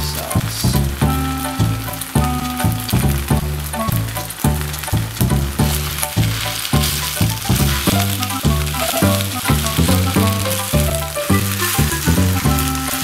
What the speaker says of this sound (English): So, to fry rice, you actually do mix it in?